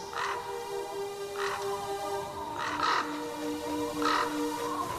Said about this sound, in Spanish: Estaba mirando acá unos cuervos que revolotean